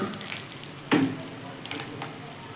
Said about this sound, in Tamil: நல்லா வதக்கிக்கோங்க அந்த பவுடர்லாம்